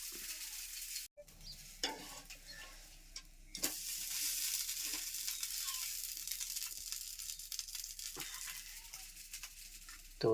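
A dosa frying in a little oil on a pan, with a steady close sizzle broken by a few scraping stirs and brief pauses as the batter is handled.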